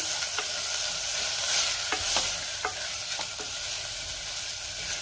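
Spoon stirring a mung dal and potato mixture with garam masala in a hot pan, a steady soft sizzle broken by several sharp scraping taps against the metal, close and fairly quiet with no talking.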